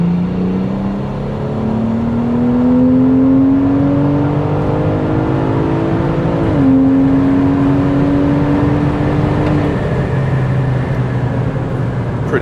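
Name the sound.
big turbo BMW 340i accelerating at full throttle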